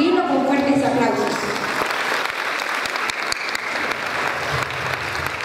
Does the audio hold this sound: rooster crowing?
no